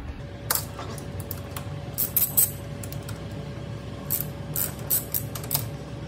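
A ratchet loosens the handlebar clamp bolts on a 2015 BMW F700 GS motorcycle, giving irregular bursts of sharp, close metallic clicks over a quiet background, with no talking.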